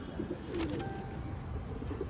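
Soft pigeon coos from a rooftop loft in Amritsar sound faintly against a quiet background, a few low murmuring calls spread across the moment.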